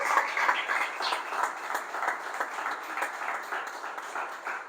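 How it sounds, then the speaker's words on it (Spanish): A church congregation applauding together in sustained, moderately loud clapping, many hands in an even wash of claps with no talking over it. "Démosle un fuerte aplauso al Señor"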